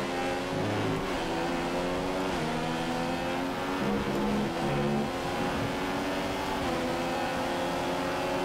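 Formula One race cars in the F1 2015 racing game at the Hungarian Grand Prix in Budapest, a steady loud engine whine with shifting pitch as cars run close together and pass, no talking.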